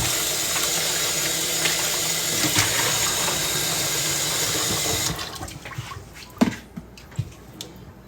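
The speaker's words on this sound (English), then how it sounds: "you get the pumpkin, you wash it off." Steady, loud rush of running water while a pumpkin is washed off in a kitchen, cutting off abruptly partway through and leaving a few sharp knocks and clatters in a quieter room.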